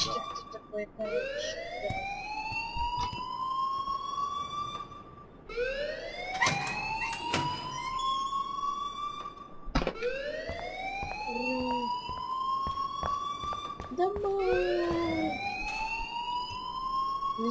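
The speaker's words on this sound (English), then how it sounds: "please turn off that alarm since that's your job" A school fire alarm in the video game Life Is Strange wails in repeated rising sweeps, each climbing then cutting off, with faint talk and background activity under the steady electronic siren.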